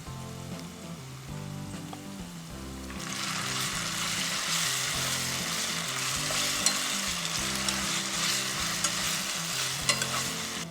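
Ground Kashmiri chili hits hot oil in a pan for Schezwan chutney, bursting into a loud, steady sizzle after a few seconds of quieter frying and stirring, continuing close and unbroken to the end.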